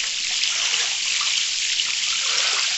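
Cold water runs from a tap in a steady, even hiss, close by and unbroken, with no voices over it.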